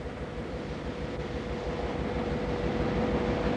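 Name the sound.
Mt. Newman mining railroad locomotives arriving at workshops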